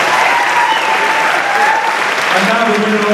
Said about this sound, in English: Big round of applause, ladies and gentlemen, from Britain.